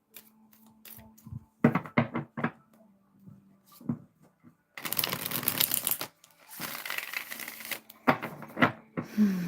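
Tarot cards are shuffled in several bursts, with riffling, bridging and sharp tapping sounds, close up, separated by short quiet pauses.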